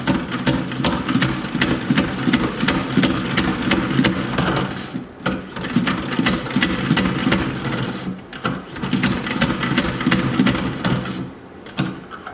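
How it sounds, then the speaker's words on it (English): A hand-operated salad spinner whirls washed spinach, giving a continuous rattling whir that pauses briefly twice before spinning up again, close and fairly loud. "Take the spinach, put on one of these little spinning things."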